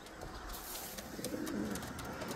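Soft cooing from racing pigeons at a loft, faint and low against a steady background hiss, with a few light clicks scattered through.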